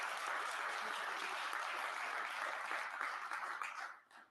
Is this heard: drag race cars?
no